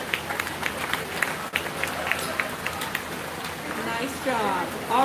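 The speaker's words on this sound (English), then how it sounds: "let's have another round of applause for our Clover Kid showman" Crowd applause at a 4-H/FFA beef cattle show ring at a county fair, steady clapping spread across the stands over a busy background, with voices talking partly under it.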